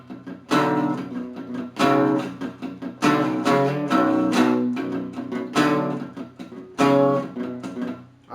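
Electric guitar plays a verse riff, loud distorted chord bursts alternating with tight, chugging palm-muted notes on the low sixth string in a rhythmic pattern, close and alone without talk.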